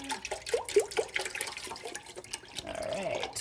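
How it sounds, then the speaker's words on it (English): Milk pours into a pot during homemade lemon ricotta cheese making, a steady liquid splash and gurgle with small clinks, fairly close and moderately loud, ending in a smooth continuous pour. "we're gonna add these milks to the pot"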